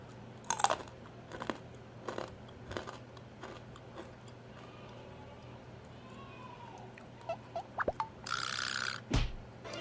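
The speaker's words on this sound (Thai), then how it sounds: "บีทรูท กรอบ" Crispy baked beetroot chips crunched up close, with several sharp bites and chewing crackles in irregular bursts, and a brief louder rustle near the end.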